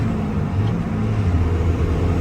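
A lifted 20-inch-wheel Cummins diesel truck cruises in fourth gear, giving a steady low engine drone and road rumble heard from inside the cab at a constant pace.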